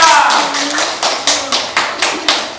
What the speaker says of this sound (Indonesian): Berikan lagi aplaus untuk kelompok 3